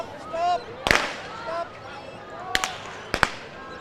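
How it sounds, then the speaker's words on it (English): A recall starting gun at an outdoor junior girls' 4 x 200m relay heat, with several sharp pops spread across the moment over crowd murmur and a commentator talking. "And we have a second gun there."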